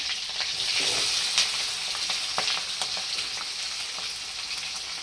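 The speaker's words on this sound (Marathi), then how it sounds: "बटाटा चांगला तेलामध्ये परतून घ्यायचा आहे मिरच्यामध्ये" Potatoes fry in oil with cumin seeds and green chillies, giving a steady loud sizzle with occasional crackles and stirring scrapes, nearby and without voices.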